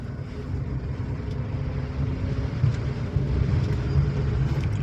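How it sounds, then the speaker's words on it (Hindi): A car driving through Kolkata city traffic gives a steady low engine rumble that swells slightly as it accelerates, with continuous road noise and no talk. "गाड़ी में बढ़ा रहा हूँ।"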